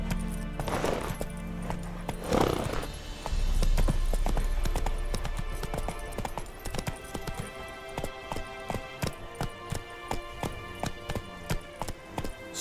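Geralt's horse Roach galloping in The Witcher 3, a steady rhythmic clip-clop of hooves that grows clearer and more regular over the clip. Brief breathy snorts come early, and there is no talk.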